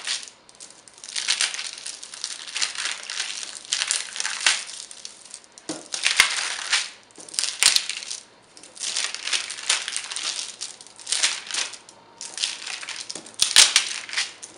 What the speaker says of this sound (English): And it comes off the wax paper really easily.